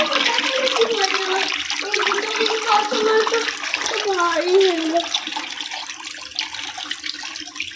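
Water pours steadily from a tap as food is rinsed at home, a loud splashing flow running throughout while voices talk over it.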